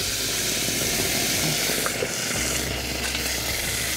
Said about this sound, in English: And then in goes our sauce